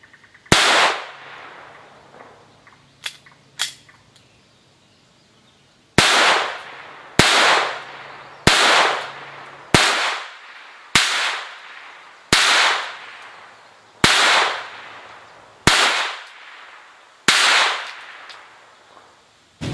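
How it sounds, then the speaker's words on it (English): An ATI GSG Firefly 2018 model pistol firing rounds at a target: a couple of sharp, close cracks, a pause, then eight more evenly spaced shots at a steady pace, each with a short decaying tail. "This gun's a lot of fun. Maybe that's why I want to keep shooting."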